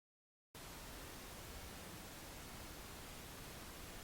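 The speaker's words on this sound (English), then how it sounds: "So if we look at our pink noise through the spectrum" Steady broadband pink noise used as a mixing reference starts abruptly after a brief silence and holds at an even, constant hiss with a full low end through to the finish.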